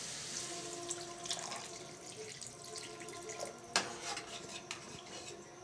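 Water is poured into a pot of potato curry with soft splashing, and faint clinks of utensils against metal and one sharper knock sound close by at low volume.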